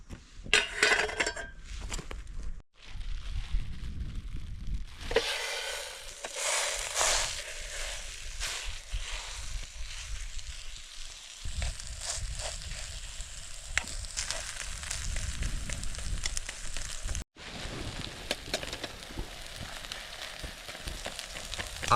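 Patties frying in butter in a pan at a solo camping site, a steady close sizzle and crackle running throughout with brief gaps, mixed with occasional scraping of a utensil against the pan.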